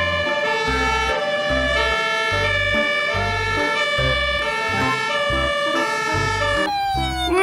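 A toy fire truck siren playing a repeating electronic wail with a bouncy beat, loud and close, looping steadily with a brief squeal at the end.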